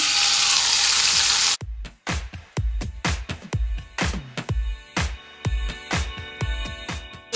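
Bacon frying in a pan for a breakfast frittata: a steady loud sizzle at first, then a series of sharp clanks and thuds from utensils and the pan over a lower ongoing hiss.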